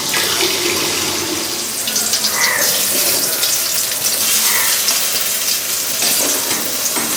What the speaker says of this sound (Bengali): চালটা আমি আগে ভালো করে ধুয়ে নিই।